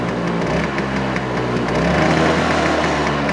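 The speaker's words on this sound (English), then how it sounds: "Let's get it started up. And we'll give it a couple revs." A Stella scooter engine idles steadily, then its pitch rises slightly as it revs, a continuous buzzing drone close by.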